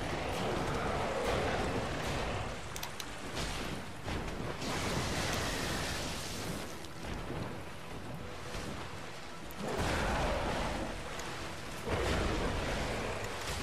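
Lightning strikes and thunder in Dark Souls, broad roaring rumbles that swell and fade in several waves, loud and sustained like a storm.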